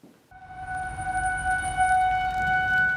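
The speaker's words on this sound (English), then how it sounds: "the tornado sirens that blared through the city on June 8th should never have sounded" Tornado warning sirens blaring across Denver during a severe storm, a steady sustained wail with tonal harmonics that holds loud and unbroken over a low rumble of rain and wind.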